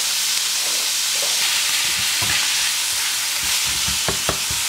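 Beef stir-frying in a pan gives a loud, continuous sizzle with repeated scraping and tossing strokes, clustered more densely toward the end, no talking.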